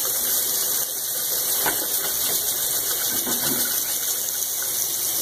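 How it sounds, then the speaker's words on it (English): Tap water runs steadily from a bathroom faucet while it heats up, a continuous gushing hiss with a faint high squeal from the pipes and a few soft knocks, close and alone. "Let the water get hot."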